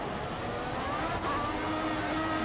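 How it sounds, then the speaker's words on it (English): Tyre noise from an F1 car cornering on track in the racing game F1 2014, a continuous engine drone with a thin rising squeal layered over it for a couple of seconds. "as you can hear the tires"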